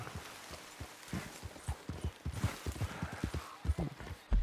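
Steady clip-clopping of horse hooves at a trotting pace, close and continuous, with no talking, from the video game Red Dead Redemption 2.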